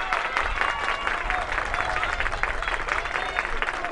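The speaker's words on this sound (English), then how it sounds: "The Humboldt crowd comes to their feet as Hunter Moreau digs in." Humboldt crowd at a high school baseball quarterfinal, cheering and applauding steadily throughout, a dense, sustained wash of clapping and voices with no break.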